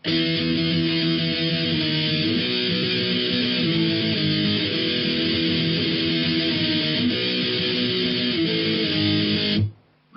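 Distorted electric guitar plays an intro riff low on the neck, a dense continuous wash of chords held loud and close for about ten seconds before cutting off, with no voices.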